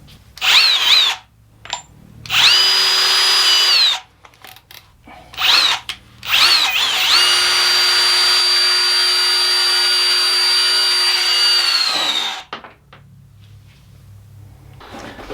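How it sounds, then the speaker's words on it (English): A KOBALT 24V brushless drill driver spins up in short whining bursts, then runs long and steady on a bolt for several seconds before cutting off, close and loud with no talk. "this bolt right here caused the KOBALT drill driver to meet its match"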